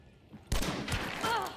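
A sudden gunfire burst in Hunt: Showdown after a quiet moment, a loud sharp report followed by a second shot and echoing tail.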